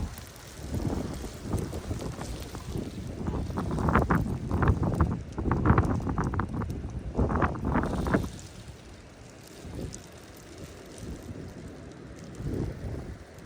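Strong cold wind buffets the microphone outdoors in America, gusting in heavy rumbling bursts for several seconds before easing to a steadier, quieter rush, with no voices heard.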